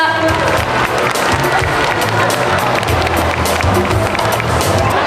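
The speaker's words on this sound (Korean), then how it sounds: "여러분들 교육장님을 큰 박수와 함께 무대로 모시겠습니다" A festival crowd at the 2024 Namhae Treasure Island children's festival opening ceremony gives continuous, dense applause mixed with chatter and cheering as a speaker is welcomed to the stage, loud and sustained throughout.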